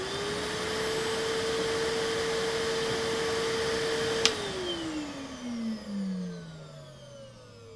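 A Henry HVR200 full-size canister vacuum cleaner drones steadily nearby. After a click partway through, its motor pitch drops and spins down gradually. No one speaks.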